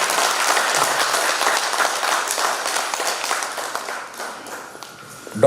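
An audience at an annual seminar and youth award ceremony bursts into loud, sustained applause, dense clapping that gradually thins and tapers off near the end.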